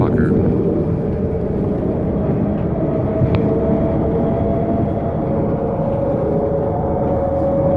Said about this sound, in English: This train's gonna be a loud motherfucker.